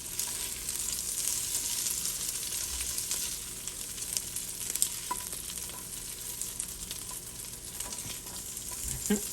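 Cooked shrimp sizzling in a frying pan for shrimp fried rice with cauliflower, a steady crackling hiss with occasional sharp pops and light stirring clinks, close and continuous throughout.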